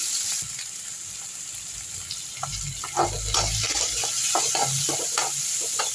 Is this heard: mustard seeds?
yes